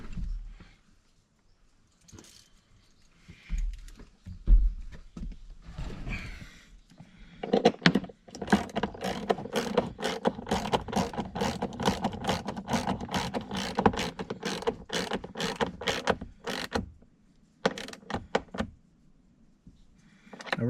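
A wrench ratchets rapidly in quick, close clicking bursts while bolts are tightened during a Banks iDash install on a 2024 Chevrolet 2500, broken by clunks and brief pauses, with no talking.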